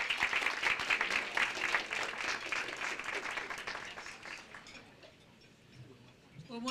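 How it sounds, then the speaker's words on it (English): A big round of audience applause welcoming a rabbi at a community event, broad clapping from a crowd that swells, holds, then thins and fades out toward the end. "Give her a big round of applause"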